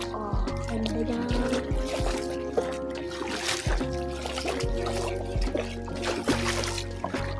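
Flowing water trickles and splashes steadily nearby outdoors, with a repeating low thumping rhythm running underneath the stream throughout.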